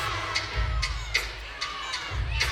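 Crowd at a college gymnastics meet, Auburn at Kentucky, cheering and whooping during a floor routine; a steady roar with several sharp shouts rising above it over a low rumble.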